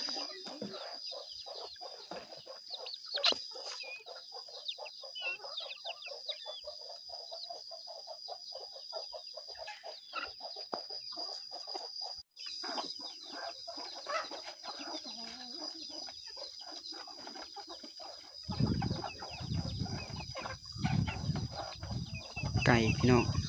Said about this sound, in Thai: ไก่บ้านเฮาเนี่ยเห็นไหม